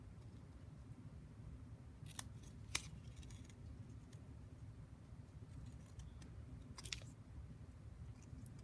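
Scissors snip a few times while cutting paper flags for a handmade card, giving brief crisp cuts over a quiet room hum, with no talking.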